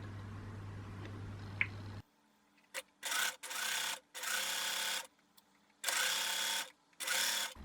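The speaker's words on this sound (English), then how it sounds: "Just going to press it with the iron to hold that down while I sew it." Sewing machine stitching a soft, oversized sleep mask, running in several short start-stop bursts after a brief steady hum, close and fairly quiet.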